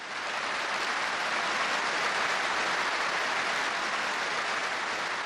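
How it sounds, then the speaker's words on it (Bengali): An audience at a live Zakir Naik lecture event claps together in dense, steady applause that holds at an even level for the whole stretch, with no voices over it. "আমি দর্শকদের হাততালি দিয়ে অভিনন্দন জানাতে অনুরোধ করছি।"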